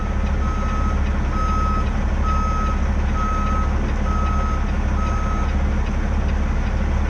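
A skid steer's reversing alarm beeps in a steady repeating pattern while it is loaded at the John Deere factory in Dubuque, Iowa, over a constant low engine rumble.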